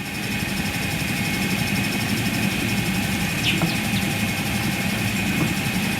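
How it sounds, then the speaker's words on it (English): An electric spinning wheel spins a wool blend of Shetland, Merino, Chubut and Corriedale, giving a steady, even motor hum and whir throughout, close and constant with no talk. "I am spinning on my e-spinner because yeah, that's what I prefer."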